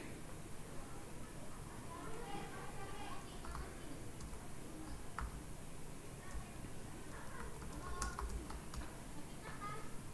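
Rapid keyboard typing clicks run steadily through a roomy background, with soft scattered taps and a few brighter keystrokes standing out toward the end; no speech over it.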